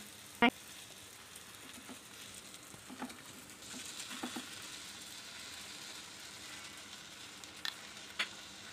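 Thalipeeth flatbread, a thick multigrain disc, sizzling on an oiled iron chapati griddle at close range, a soft steady frying hiss with a sharp tap near the start and a few small pops and crackles.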